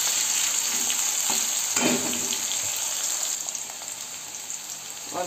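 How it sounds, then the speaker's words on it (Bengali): Potatoes with green chilli, salt and turmeric frying in a pan, a steady loud sizzle with brief stirring scrapes, easing slightly toward the end, with no talking. "কাঁচা লঙ্কা আলুটা ছেড়ে দিলাম, এটা একটু লবণ হলুদ দিয়ে ভেজে নেব,"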